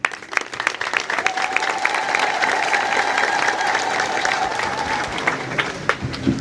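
An audience at a religious sermon gathering breaks into applause, a thick, sustained patter of many hands that swells after a brief start and fades toward the end, with faint voices mixed underneath.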